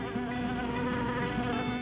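Bees buzz in a steady, close, tonal drone that holds its pitch with slight wavering and no voices.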